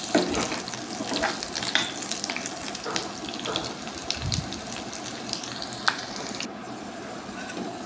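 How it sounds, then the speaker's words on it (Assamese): Pieces of raw papaya fry in a pan with a steady sizzle, punctuated by scattered scraping and stirring clicks, close and moderately loud. "এতিয়া মই কাটি থোৱা অমিতাখিনি প্ৰথমে ভাজি ল'ম।"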